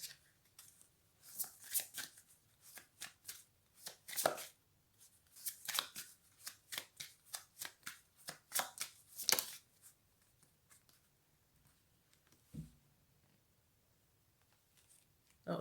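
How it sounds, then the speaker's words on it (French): Tarot cards shuffled by hand for a reading, a run of quick riffling and flicking bursts in bouts, close and fairly quiet, thinning toward the end with only a few soft taps. "On prend une dernière carte."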